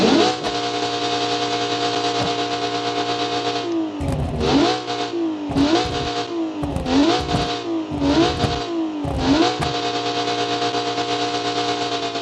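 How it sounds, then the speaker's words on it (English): A Rold UTE SS Kangaroo engine in BeamNG idles steadily, then revs hard several times in sharp repeated bursts, loud and close with no talking. "But let's go hear the exhaust."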